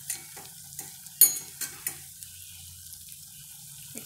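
Chilli and cumin powder stirred and frying in a pan while making chole, with soft scraping clicks from a spoon over a low sizzle in a quiet kitchen.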